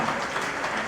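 Brief burst of dense audience clapping at a general body meeting of the Bombay Bakers Association in Bandra, a steady crackling patter of many hands with no voices over it.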